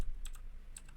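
Keys tapped on a computer keyboard while entering text into a WordPress website editor, a short burst of quick, light clicks heard close and alone.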